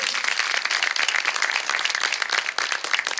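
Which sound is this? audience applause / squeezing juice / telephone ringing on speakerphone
audience applause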